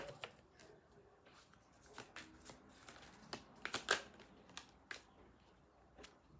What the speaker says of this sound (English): let's pull one more card for the feminine energy